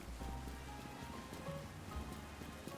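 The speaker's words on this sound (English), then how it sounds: "Oh, no, it is raining." Rain falling in a Pokemon video game: a dense, even patter of raindrops on surfaces, soft and continuous with no breaks.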